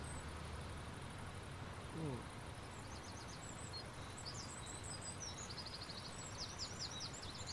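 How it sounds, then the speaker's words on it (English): Birds chirping and trilling in the Bus Simulator 18 video game, faint and distant over a constant low engine-like rumble, with short twittering phrases recurring in the latter half. "sit outside the bus because this is where you can hear the birds singing here"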